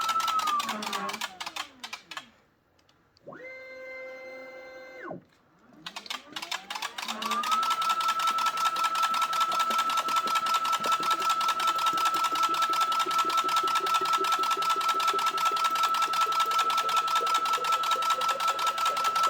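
A tabletop filling machine fills 20oz bottles, a steady mechanical clatter with a sustained tone, briefly dropping quiet before the whirring resumes and runs on evenly.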